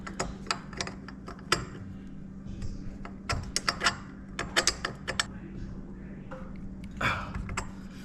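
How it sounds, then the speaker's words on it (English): A wrench tightens bolts on a garage door during installation, giving rapid ratcheting clicks in uneven bursts over a low steady hum, close and moderately loud. "I'm gonna go get a wrench and finish tightening that down a little bit."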